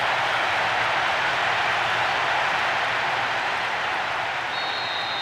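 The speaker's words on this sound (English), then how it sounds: "The capacity crowd are enjoying the goal celebration." A capacity stadium crowd in Pro Evolution Soccer 2006 roars in a goal celebration, a dense, steady wash of cheering and noise that stays loud and unbroken throughout, with no voices standing out.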